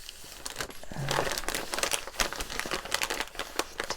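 An Amazon mailer envelope crinkles and rustles as it is handled up close, a dense run of papery crackles and crunches that swell in the middle, with no talking.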